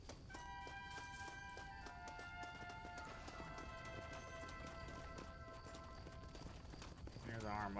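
Galloping horse hooves in Red Dead Redemption on PS5, a steady rapid clip-clop running under game music with a whinny near the end.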